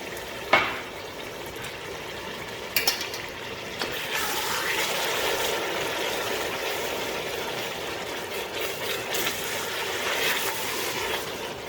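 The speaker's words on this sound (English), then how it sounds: "Now add tamarind water, about half cup" Tamarind water with pulp pours into a hot pan with a sudden hiss that settles into steady sizzling and bubbling, preceded by a couple of sharp clinks.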